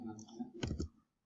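Mouse clicks in CAD drawing software, a quick cluster of two or three sharp, close clicks in the middle, with faint low murmur before them and silence after.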